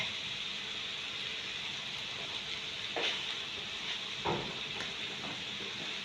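Noodle cake frying in a pan on medium heat, giving a steady, even sizzle with a few faint clinks and stirring taps partway through.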